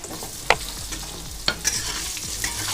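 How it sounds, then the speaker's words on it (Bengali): Cut potatoes frying in hot oil with cumin and bay leaf, a steady close sizzle punctuated by a few sharp clinks and scrapes of a spatula against the pan. "এবারে আমি এখানে কেটে রাখা আলুগুলো দিয়ে দেবো"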